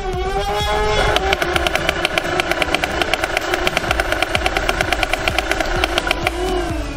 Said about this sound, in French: On a mis une cinquantaine de boules dedans pour voir comment ça tape en tir continu.